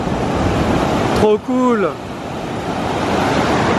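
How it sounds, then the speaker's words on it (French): Ocean surf breaks steadily on a beach in Morocco, a continuous loud wash with wind, while a voice briefly speaks over it. "Elles sont chouettes ces vagues."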